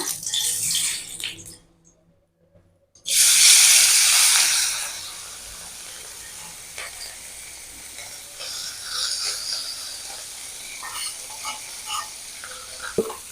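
Water splashes and swirls in a bowl as ground black mustard and green chilli paste is mixed with water by hand, a soft wet hiss continuing steadily with small clinks.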